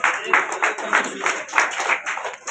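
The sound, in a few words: audience clapping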